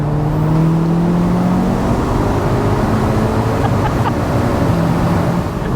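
A Polo GTI's swapped-in 440 bhp Golf R engine roars loud and close, a steady throaty drone whose pitch climbs slightly as it holds high revs.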